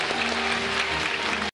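A television studio audience claps in sustained, dense applause, a full even roar of hands that holds steady and then cuts off abruptly.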